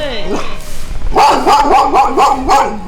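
A faint whimpering yelp opens, then a dog barks five or so times in a quick, even run, loud and near, with a whining, howl-like edge.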